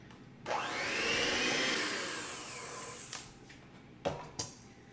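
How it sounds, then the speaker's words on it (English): A kitchen blender whirs loudly for about three seconds, mixing wet ingredients for a gluten-free, dairy-free pumpkin or sweet potato cake roll, then stops, followed by two brief knocks. "we're going to blend this together"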